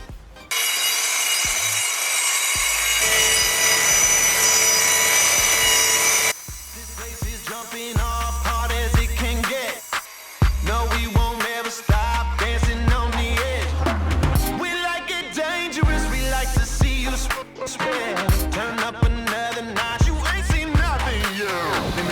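A wooden kitchen piece for a DIY Ford Transit van conversion is cut, starting with a loud, steady saw whine for several seconds, then rasping, uneven cutting strokes broken by short pauses and knocks.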